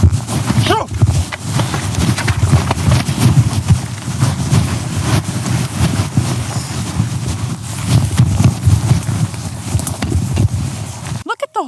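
Horse plodding through water and mud on a Mongolian trail, with repeated heavy hoof falls and squelching, sloshing steps at close range, some wind buffeting, ending abruptly.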